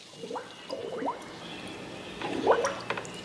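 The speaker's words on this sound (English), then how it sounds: "And you'll hear the bubbles." Bubbles gurgle in kegerator beer lines as they are cleaned, giving scattered soft blips and bursts of burbling liquid, fairly quiet against a low hum.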